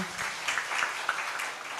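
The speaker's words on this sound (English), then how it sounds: "I'll give a round of applause again, ladies and gentlemen." Steady applause from an economic forum seminar audience, a dense patter of clapping hands at moderate loudness, without talking.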